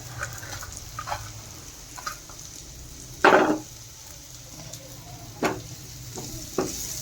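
Chopped onions sauté in a pan for soya chunk cutlets, a low steady sizzle broken by a few louder scraping stirs, close and fairly quiet.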